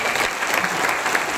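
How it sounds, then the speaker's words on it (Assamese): Audience applause at a recognition programme in Guwahati, a dense, steady patter of many hands clapping at once, loud and sustained with no clear speech. "এটা জোৰদাৰ তালি হ'ব লাগে"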